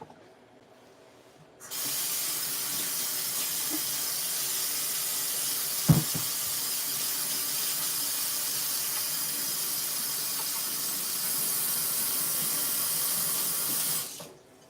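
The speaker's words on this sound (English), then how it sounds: "let me wash my hands" Tap water runs steadily into a kitchen sink during hand washing, a loud even hiss that starts abruptly, carries on for about twelve seconds with one brief knock partway through, and then cuts off.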